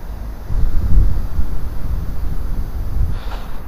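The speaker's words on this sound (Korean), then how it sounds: "여기 있으니까 정말 시원한 바람이 불어오네요" Cool wind blowing through an alley in Seochon near Gwanghwamun, Seoul, a steady low rushing buffet against the microphone that rises after the first half-second and keeps rolling, with faint distant city hum behind it.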